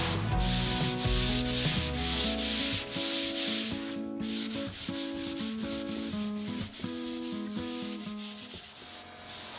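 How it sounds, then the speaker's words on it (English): Hand-sanding a lacquer finish along the wood grain with 320-grit sandpaper, a close, continuous scratchy rubbing in quick back-and-forth strokes that keep a steady rhythm throughout and end with a brief pause. "After sanding the finish in the direction of the grain with 320 sandpaper"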